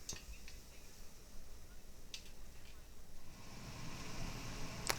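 Beef short ribs being stirred in a pot with tomato and avocado oil, giving faint scraping and a few sharp clinks of a utensil against the pot over a low background hiss.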